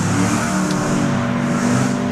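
A Nissan Skyline race car charges up a hillclimb course near the finish line, its engine a loud, sustained roar at close range without a break.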